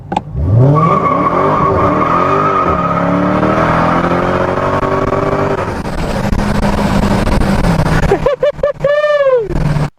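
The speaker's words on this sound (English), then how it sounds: "Dodge Challenger Hellcat. This is a mighty machine." A Dodge Challenger Hellcat revs hard through rising gears with loud engine roar and tire squeal, ending in choppy, bursting revs and a sudden cutoff; the sound is close, loud and dominant.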